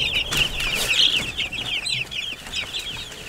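Chickens cluck repeatedly at close range on a permaculture homestead, with a busy overlapping chorus of short calls over faint outdoor background.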